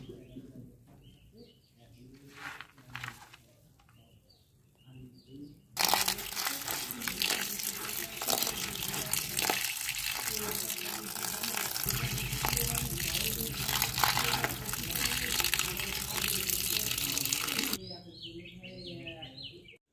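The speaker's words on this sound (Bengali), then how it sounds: "সব ডাল ভালো করে ধুয়ে নিয়েছি" Soaked lentils being washed by hand in water, a steady loud splashing and sloshing that runs for about twelve seconds, framed by quieter stretches with a person talking and birds cooing nearby.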